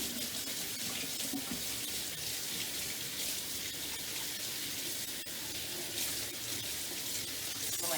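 Hands rinsed under a running tap at a sink during an acrylic pour painting session, giving a steady, close, continuous hiss of flowing water with no pauses.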